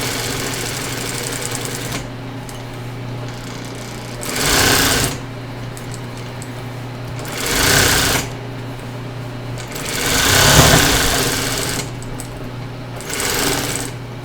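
A Singer 281-1 industrial sewing machine runs a chain stitch in production, with a steady mechanical hum broken by several loud, fast bursts of stitching a few seconds apart.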